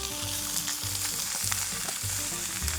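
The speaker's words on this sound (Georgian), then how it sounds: "ეხლა ჩვენთვის მნიშვნელოვანია, რომ ხორცი რაც შეიძლება სწრაფად დაუბეჭდეთ" Meat for kharcho soup sears in a wide pot, giving a loud, continuous close-up sizzle with crackling spits and brief pulses as pieces are turned, and no voices.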